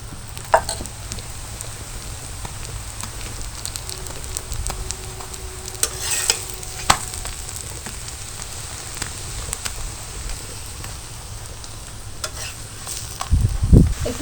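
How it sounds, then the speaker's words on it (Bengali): Layered lachha paratha frying in a pan of oil, a steady low sizzle that runs softly and continuously, with a few brief clinks and a slightly louder burst near the end. "এবার একটু তেল ছড়িয়ে ছড়িয়ে আমি ভাজছি"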